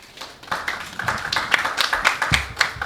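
Modest applause from a conference audience welcoming a guest official, a thin scattering of claps and taps building after the first half second, moderately faint and somewhat uneven.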